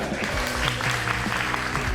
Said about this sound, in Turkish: Duyalım lütfen alkışları.